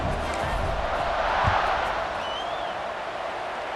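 A stadium crowd at a college football video game, with the Colorado Buffaloes on the field, keeps up a steady, dense murmur and cheer throughout, with a brief swell near the middle.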